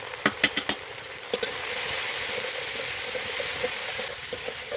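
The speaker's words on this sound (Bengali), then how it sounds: "একটু ভালোভাবে নাড়াচাড়া করে নেব" Onion, ginger paste and spices frying in a pan, a steady loud sizzle with a few quick scraping stirs near the start, close and without talk.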